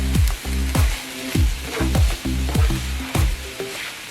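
Ground turkey and zucchini sizzle loudly in a skillet, with a steady frying hiss broken by repeated sharp scraping strokes of a utensil stirring the pan roughly every half second.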